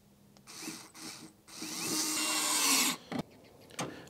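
Cordless drill driving screws into the plastic tailgate cover of a Land Rover LR3, two short whirring bursts followed by a longer rising spin, then a few brief clicks and bumps, close and alone.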